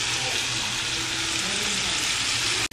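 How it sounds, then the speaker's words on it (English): Bacon frying in a pan gives a continuous loud hiss and crackle up close, holding steady before breaking off briefly right at the end. "Cooking up some bacon"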